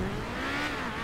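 A car speeds up on a road as the driver accelerates, with a loud, close engine rising under steady road and wind rush.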